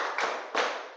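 A classroom group claps in unison on a counted cue, giving two sharp, roomy claps about a third of a second apart.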